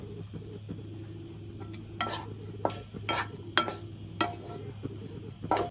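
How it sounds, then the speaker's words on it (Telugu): Garlic rice is stirred with finely chopped coriander, giving soft scraping strokes and a few sharper clinks of a utensil against the pan over a steady low hum, with no talking. "కలుపుకున్న తర్వాత మనం సన్నగా కట్ చేసిన కొత్తిమీర కూడా వేసుకుని కలుపుకోవాలి"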